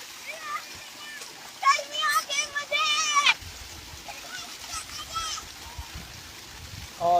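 Children's voices chatter and shout over splashing water in summer heat, lively but somewhat distant, with intermittent bursts of play.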